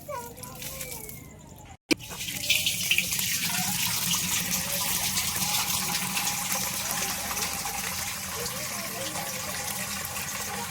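Water gushes steadily from a tap into a metal pot, a continuous filling rush after a brief cut, with faint voices in the background.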